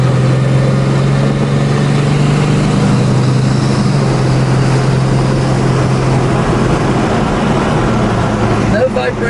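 A 1972 Plymouth Duster cruising at 60 mph, with a steady engine drone and road and wind rumble continuing throughout, close and loud, with no change in pace.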